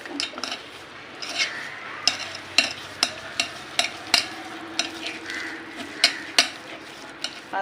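A spoon scrapes and clacks against a pan while quail masala is stirred, the irregular knocks and scrapes landing over a low, steady sizzle.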